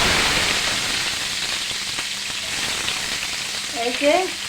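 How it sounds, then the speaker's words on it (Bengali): Onion, garlic and ginger hit hot oil and fry with a loud, dense, continuous sizzle heard up close, and a brief voice surfaces just before the end. "দেখুন তেল দিয়ে দিছি এখন পেঁয়াজ রসুন আদা দিয়ে দিচ্ছি"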